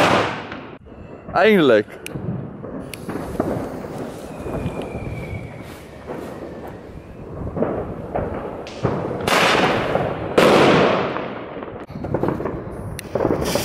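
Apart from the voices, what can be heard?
German cannon-salute firecrackers exploding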